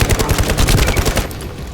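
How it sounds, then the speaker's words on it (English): Rapid automatic gunfire from a looter-shooter video game, The First Descendants, rattling loudly in a dense burst that thins out toward the end, with no voices over it. "Oh, there's a shot."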